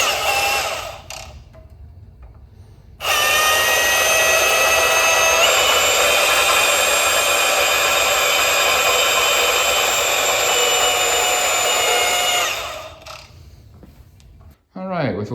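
A power tool cuts a small piece off a rubber coupler hose during a 1997 Mustang Cobra engine and transmission install, producing a loud, steady high-pitched whine for about ten seconds between quieter handling noises.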